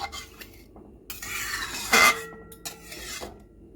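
Masala paneer ingredients are stirred in a pan, with a spoon scraping and rasping against the metal in short, uneven strokes and one louder scrape partway through.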